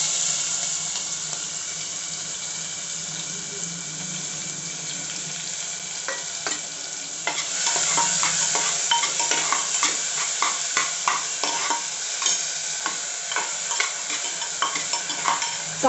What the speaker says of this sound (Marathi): कांदा आणि टोमॅटो चांगला मऊ असतोपर्यंत आणि गुलाबी रंग येतोपर्यंत आपण परतून घेऊयात